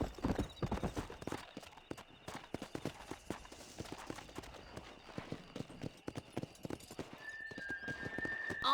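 Horse hooves clip-clop steadily in Red Dead Redemption, several horses moving slowly together with a dense, continuous rhythm, occasional whinnies and faint background tones, no speech.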